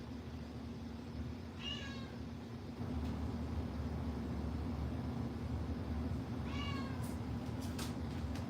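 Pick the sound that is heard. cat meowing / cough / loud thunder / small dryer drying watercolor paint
cat meowing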